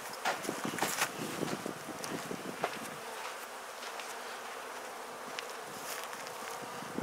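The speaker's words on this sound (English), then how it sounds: "Got some new bees." Honeybees buzz steadily around an open top bar hive during an inspection, a dense, close swarm drone with scattered louder passes near the microphone and some light wind noise.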